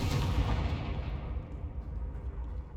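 In the Hogwarts Legacy video game, a Confringo spell blast erupts as a deep, heavy boom that trails off into a long, low rumble, fairly quiet overall and with no voices.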